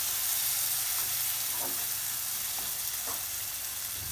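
Masala spice paste frying in oil for a palak aloo dish, a steady close sizzling hiss with a few faint stirring scrapes, no voices.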